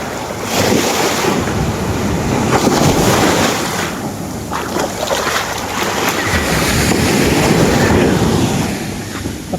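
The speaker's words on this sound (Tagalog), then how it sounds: "Sobrang lakas ng alon." Strong ocean waves crash and roll onto the shore in repeated loud surges, with heavy wind buffeting the microphone throughout.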